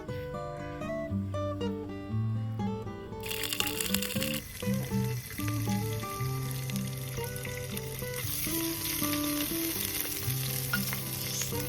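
Cooking oil sizzles in a pan while a traditional Aagri-style liver dish is prepared. A steady hiss starts a few seconds in and runs under prominent background music with a clear melody.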